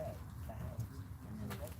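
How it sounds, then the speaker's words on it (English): Pigeons or doves gathered around food outdoors, soft cooing and a few scattered calls at moderate distance over low background murmur, with brief sounds of people nearby. "Look at the birds everywhere."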